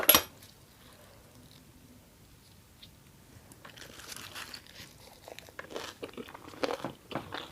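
Crisp squid in a Thai squid miang wrap being chewed, starting with a sharp bite and then quieter irregular crunching that builds into steady chewing close to the mic.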